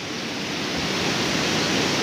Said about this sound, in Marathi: बघा हे पाणी कसं वरती येतं बघा